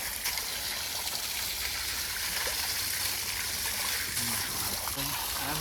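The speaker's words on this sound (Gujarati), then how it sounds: "મોટરમાં આવે તાજું પાણી મિત્રો, એટલે ગરમ ન કરવું પડે." Fresh water flows from a motor pump in a village, a soft continuous gush and trickle heard faintly, with people talking over it.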